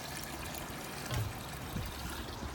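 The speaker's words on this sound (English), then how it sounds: "That's fish water coming out." Fish water from an aquaponics pump at a school garden runs out in a faint, steady trickle with soft splashing, low and close, with no voices.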